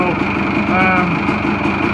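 A motorcycle engine idles steadily while warming up, a close, loud, even rumble that holds without revving for the whole stretch.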